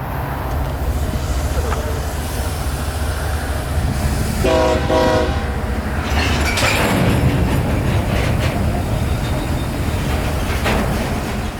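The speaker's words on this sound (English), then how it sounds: "Notice here how slowly G127 begins to roll northward." A heavy freight train, G127, slowly starts to roll northward, with a loud, continuous rumble, a short horn blast partway through, and squealing, clattering wheels and car noise as it gets moving.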